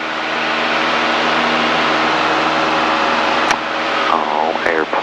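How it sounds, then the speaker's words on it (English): A Cessna 152 on a training flight makes a steady, loud, close engine and propeller drone that fills the whole stretch, with brief clicks near the end. "Oh, airplane."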